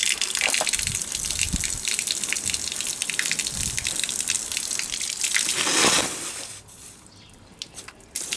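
Water gushes from a weak, low-pressure tap in a steady rushing splash that breaks off near the end into scattered drips and squishes, close and unaccompanied by talk.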